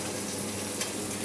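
Onions frying in oil for a fish gravy give a steady, dense crackling sizzle throughout, close and even, with a faint stir near the middle and no voices.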